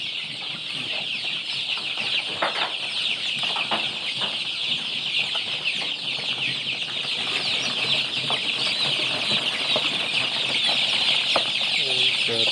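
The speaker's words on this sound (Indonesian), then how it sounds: "Ayam KUB semua." Flock of month-old KUB chickens (Ayam KUB, an improved Indonesian native breed) clucking and calling continuously inside a coop, a dense steady chorus at close range with occasional wing flaps and faint talk in the background.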